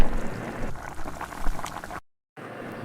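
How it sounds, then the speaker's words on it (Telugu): Small bitter gourds fry in oil with chopped onions, giving a dense bubbling, crackling sizzle up close. The sound cuts out briefly near the end and then resumes. "ఆ చేదు పోయేంత వరకు కాస్త ఫ్రై చేయండి"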